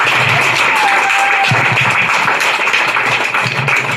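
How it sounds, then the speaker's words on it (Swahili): A church congregation applauds at a service, a dense, continuous wash of clapping that fills the room at steady loudness throughout. "Tumpige makofi."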